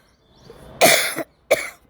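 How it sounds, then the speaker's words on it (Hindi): Two harsh coughs close by, a longer one followed by a short second burst after a brief pause. "फिर से मुझे जो खांसी लगी है"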